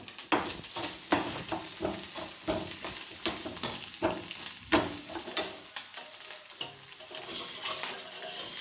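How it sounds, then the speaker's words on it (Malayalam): Coconut pieces roast in a pot for kava payasam while a spatula stirs them constantly, producing rapid repeated scrapes and knocks over a soft sizzle, no speech. "ഇതിങ്ങനെ ഇളക്കിക്കൊണ്ടിരിക്കും വേണം"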